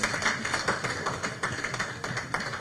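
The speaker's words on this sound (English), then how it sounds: "Another hand clap for the Ministry of Education and Sports." Scattered audience hand clapping at a results-release ceremony, a loose patter of taps of moderate loudness running for a few seconds with no voices over it.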